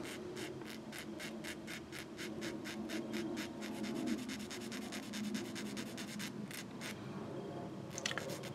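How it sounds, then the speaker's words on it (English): A diamond file rasps a plastic part from a Tamiya 1/32 Vought F4U-1 Corsair Birdcage model kit: close, steady back-and-forth strokes in an even rhythm, with no talking. "Then I get my diamond file."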